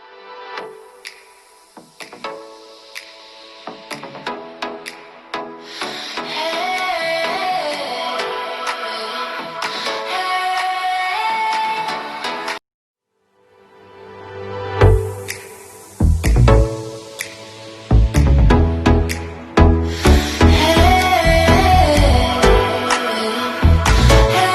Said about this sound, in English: Sounds coming out of the Xiaomi Redmi Note 9 is a little bit flat